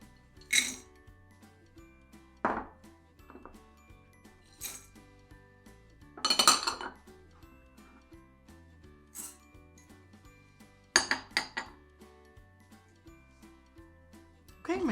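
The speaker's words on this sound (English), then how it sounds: "We're going to put them all in the bowl," Raw nuts and sunflower seeds are tipped into a bowl and tossed, producing a handful of separate rattling, clinking bursts against a quiet kitchen background.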